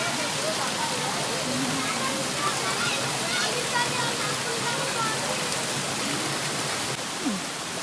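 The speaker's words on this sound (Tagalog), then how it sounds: "Ang lakas ng tubig." A constant, loud rush of water from a provincial waterfall in the Philippines, a dense hiss that never lets up.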